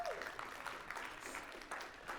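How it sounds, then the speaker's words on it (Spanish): Congregation clapping in church, a steady wash of many hands applauding at moderate distance, continuous throughout without a clear break. "Un aplauso al Señor, dele gracias"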